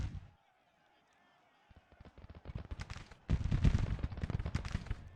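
Musket and artillery fire in a Civil War strategy game, a dense crackling volley of many distant pops that builds from near silence into a continuous rattle.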